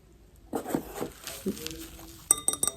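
Glass cups lifted out of shipping packaging, with paper rustling and a quick series of bright clinks near the end, close by, while someone talks over the start.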